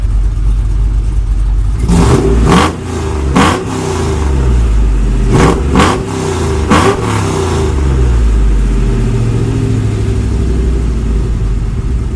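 Cammed 6.0-liter V8 swapped into a Chevrolet Silverado truck revs hard in a string of sharp, loud blips over a deep, lumpy idle, then settles back to a rough rumbling idle.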